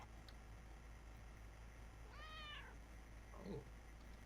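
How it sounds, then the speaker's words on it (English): A house cat gives a single short meow midway, fairly faint against a steady low background hum, followed by a brief soft sound a second later. "Oh, you got a cat."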